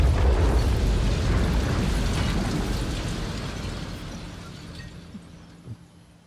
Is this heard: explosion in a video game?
yes